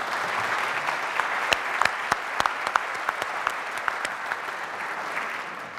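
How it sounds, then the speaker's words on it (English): An audience at a photography award ceremony applauds the nominators in a steady, sustained round of clapping, with a few sharper individual claps popping out above the dense wash of hands. "our nominators deserve a huge round of applause"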